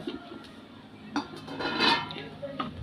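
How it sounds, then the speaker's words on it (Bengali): Egg paturi, steamed in banana leaf and now cooled, tipped out into a bowl with a few soft clinks and scrapes of dishware, a brief clatter building near the end over quiet room noise. "এবার একটা পাত্রে ঢেলে নেব"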